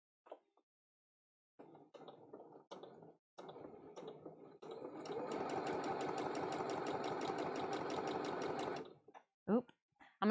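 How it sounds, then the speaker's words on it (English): A sewing machine runs in one steady, continuous stretch of stitching at close range, preceded by brief handling noises and a few spoken words, with another short voice at the end. "I'm going to turn my microphone down just a little bit while I'm sewing these."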